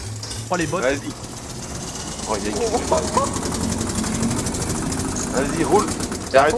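An old coal-fired tractor, abandoned for fifty years, chugs steadily with a rough, knocking engine rhythm close by, while people talk and shout over it throughout.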